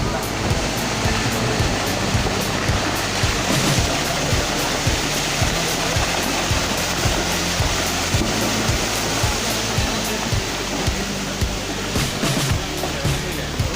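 Loud, continuous roar of rushing floodwater during a landslide, dense and unbroken throughout, like a swollen stream pouring past close by.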